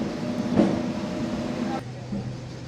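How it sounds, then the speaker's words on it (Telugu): A MEMU passenger train pulls out of Madira station on the Vijayawada–Bhadrachalam line, a steady rumbling run with low drone and rail noise that eases slightly toward the end, with voices faintly mixed in. "మదిర నుంచి మన ట్రైన్ బయలుదేరింది."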